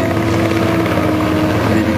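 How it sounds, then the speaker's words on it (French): A helicopter flies in an aerial ballet display, its rotor and engine giving a loud, steady drone that does not let up, with no voices over it. "l'hélico c'est quand même une invention majeure"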